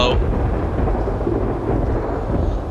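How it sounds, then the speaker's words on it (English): A deep, steady rumble of thunder rolls under heavy rain in a video game, loud and continuous throughout. "Aw, man, it's raining."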